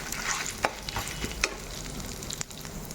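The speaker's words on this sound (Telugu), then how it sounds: "మనం పప్పులు, ఎండుమిరపకాయలు వేయించుకున్నాం కదా, మాడనివ్వకూడదండి. ఇవి చక్కగా లో ఫ్లేమ్లోనే దోరగా వేయించుకోవాలి." Lentils and dried red chillies being stirred and dry-roasted in a pan over a low flame, with soft scraping stir strokes and a light sizzle, close up and without talk.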